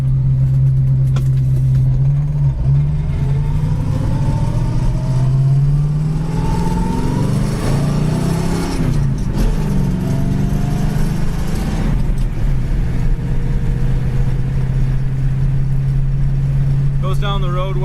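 A 1966 Ford Mustang coupe with a three-speed gearbox cruising at about 50 mph, heard from inside as a steady, loud, low engine drone with road noise throughout, under a voice talking.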